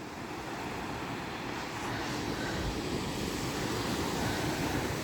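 Surf breaks on a beach in front of a resort with cottages at Vengurla, heard as a faint, steady wash of noise with no voices.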